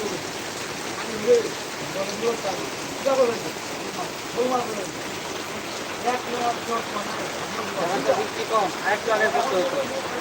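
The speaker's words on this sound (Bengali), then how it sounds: "মুসলধারে বৃষ্টি হচ্ছে আমাদের ঠাকুরগাঁয়ে" Rain pours down hard in Thakurgaon, Bangladesh, in a continuous wash of noise, with faint voices murmuring underneath.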